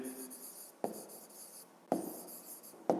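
A pen scratches out a math expression on paper during a fifth-grade maths exercise, with soft continuous writing strokes and a few sharper taps, fairly close and quiet.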